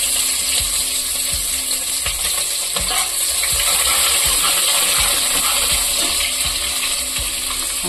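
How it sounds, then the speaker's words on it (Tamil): Mustard seeds and cumin crackle and pop in hot oil for a sambar, a dense run of sharp, irregular clicks and spits over a steady sizzling hiss, close and loud with no talking. "எண்ணெய் காஞ்சி வச்சு கடுகு சீரகம் போட்டுக்கலாம்."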